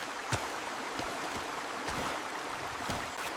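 A small freshwater stream trickles through a forest, a steady soft wash of water with occasional faint splashes and drips, heard alone without voices.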